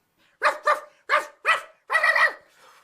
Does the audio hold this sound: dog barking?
yes